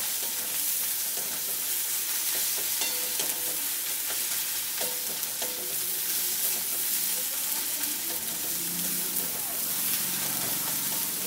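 A fried egg being stirred with spices in a hot frying pan gives a steady sizzle and crackle, with scraping stir strokes throughout at moderate level, alone without voices.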